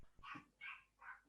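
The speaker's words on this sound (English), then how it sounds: "I do apologize if you can hear my dogs barking in the background." Dogs bark faintly in the background indoors, three short yappy barks spaced about half a second apart, distant and quiet.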